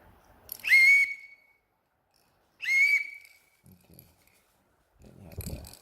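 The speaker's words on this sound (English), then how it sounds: "It has a whistle, it's compact" A shrill whistle is blown twice in short, loud blasts with a pause between, followed by faint rustling.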